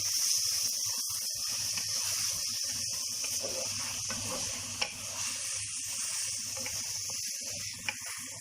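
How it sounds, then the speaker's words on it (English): Food is stirred in a pan as it cooks, with a soft continuous sizzle and hiss overlaid by intermittent scraping and stirring strokes, plus a couple of sharp clinks, close and fairly quiet. "Stir it again."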